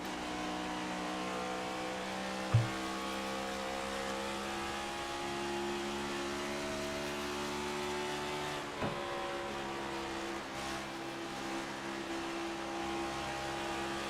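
Onboard engine of a race car in an A2 Cup Series race at Fort Worth, a steady droning hum held fairly level as the driver coasts off throttle toward the corners, with only slight shifts in pitch and no talk.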